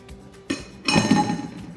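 Spoon clinks and knocks against a bowl while spices are mixed for a pasta dish, a single sharp tap followed by a brief cluster of ringing clatter, close and without talk.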